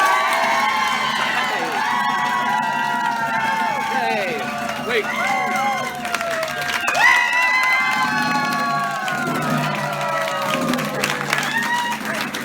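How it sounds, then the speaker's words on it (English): A crowd at Cafe Carlisle cheers, whoops and shouts with scattered clapping, a lively, dense roar of many voices close by that carries on without a break. "I told them when I cue them, they're all gonna applaud"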